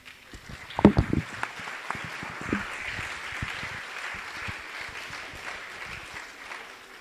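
A conference audience applauds after a first session, with a few louder claps at the start settling into a steady, moderate wash of clapping that fades slightly, with no speech over it.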